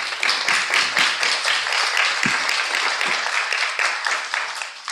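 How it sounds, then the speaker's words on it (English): Audience applause at a youth assembly session, steady dense clapping from a crowd lasting the whole stretch, fairly close and loud, with a few thumps underneath. "A round of applause for them"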